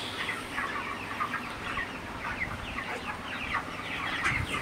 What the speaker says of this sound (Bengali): তো এই যে আমার বড় মুরগিগুলো